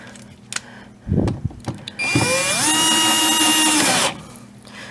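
Power drill driving a bolt into the metal ring of a Whirlpool Cabrio washer during a rotor position sensor replacement: a few brief clunks, then a steady close whine for about two seconds that stops abruptly.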